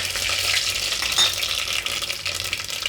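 Whole spices and cloves crackle in hot oil alongside mustard seeds in a pan. The sizzle is steady, close and fairly loud, with small pops, and no one speaks.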